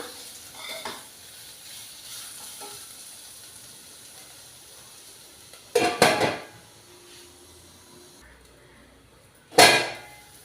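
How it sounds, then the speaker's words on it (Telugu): Ivy gourds fried in a pan with peanuts and cashews, with a soft steady sizzle broken by a few sharp clattering scrapes of a spoon against the pan. "కలిపి దొండకాయలు బాగా వేగినంత వరకు వేయించుకోవాలి ఇలాగా"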